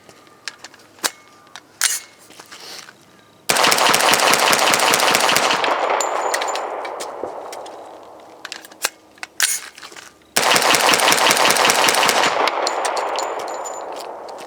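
A CMMG Guard 45 pistol fires Federal white box hollow points from Glock 21 magazines in two long rapid strings of close, sharp, evenly spaced shots, separated by a pause with faint handling clicks.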